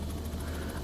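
Steady engine and rotor drone of a Vskylabs R66 helicopter in X-Plane, a continuous even hum with a low throb and faint regular blade pulsing, no talk over it.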